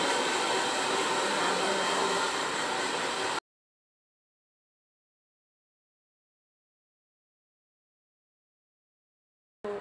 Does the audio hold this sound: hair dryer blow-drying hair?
yes